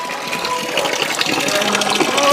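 A thin stream of water trickles and gushes steadily at the source of the Son river, close and continuous, with a voice talking over it.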